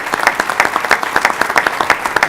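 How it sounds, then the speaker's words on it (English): Applause at a Board of Education meeting, a fairly small group clapping in a quick, uneven rhythm, close and moderately loud with no talk over it. "So if everybody can give them another round of applause"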